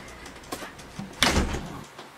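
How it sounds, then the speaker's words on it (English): A sliding patio door rumbles along its track and thuds as it is pushed open to let a dog inside, preceded by a few light knocks and handling sounds, close by in a quiet room. "Patio door."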